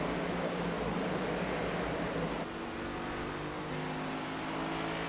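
Race car engines at Phoenix Raceway in a sim racing video game, a steady droning roar of several cars running together at a constant loud level with no talk.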